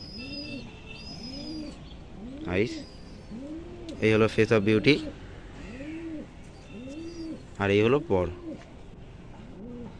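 A female pigeon in a loft coos softly in a steady, repeating rhythm of rounded calls, close by, while someone talks over it in short stretches.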